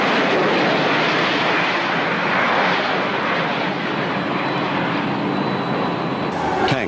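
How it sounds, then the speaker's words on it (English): Military aircraft fly round the clock, carrying airborne units and supplies to East Germany. A loud, steady engine roar holds throughout without letting up. "Special airborne units and military supplies are flown round the clock to East Germany"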